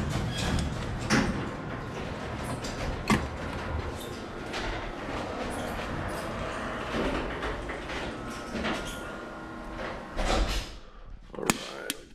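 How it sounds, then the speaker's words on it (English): A garage door closes in a home auto shop, giving a long, continuous rolling rumble with rattling clunks, a few sharp knocks and a final thud near the end. "close the garage door"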